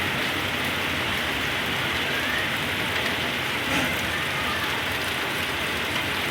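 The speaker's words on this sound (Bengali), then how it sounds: "তো প্রচুর জোরে বৃষ্টি হচ্ছে" Heavy rain pours down steadily in a loud, dense hiss on surfaces during a thunderstorm, unbroken throughout with no voices.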